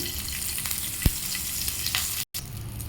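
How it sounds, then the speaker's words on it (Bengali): Black cumin seeds fry in hot oil with green chillies in a wok, giving a steady, close sizzle and crackle. A single sharp tap from a utensil lands briefly partway through. "কালো জিরেটা ভালোভাবে ভেজে নিয়েছি"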